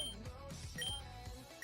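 A kitchen timer goes off while pizza bakes in the oven. Its faint, high, repeated electronic beeps sit over a busy low background of murmuring sound.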